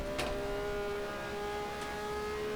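A Matra MS11 V12 race car engine in rFactor 2 at historic Monza holds a steady high-pitched whine at speed, with two brief sharp bursts, fairly faint and with no talk.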